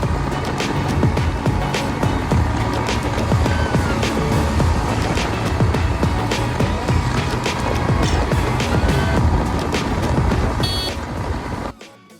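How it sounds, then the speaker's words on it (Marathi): A Yamaha MT-15 motorcycle speeding up on the Pune–Bangalore highway: loud continuous engine roar mixed with rushing wind, holding steady before dropping away abruptly at the end. "गाडी स्पीडअप करू आपण."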